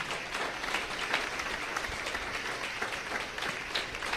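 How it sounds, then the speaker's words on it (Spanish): A church congregation applauds together during a sermon, the clapping steady and broad across four seconds, moderately loud and filling the room with no voices over it. "Dale ese aplauso al Señor"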